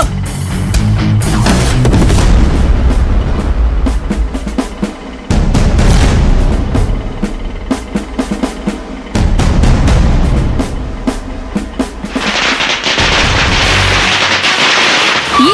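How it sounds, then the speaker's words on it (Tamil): A string of a thousand firecrackers bursts in rapid, loud crackling volleys, dense popping runs broken by brief pauses, close and harsh. "வழி மறிச்சு யாரோ 1000 பட்டாசு வெடிக்கிறாங்க சார்"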